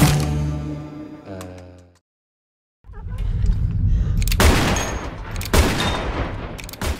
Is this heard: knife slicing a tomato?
no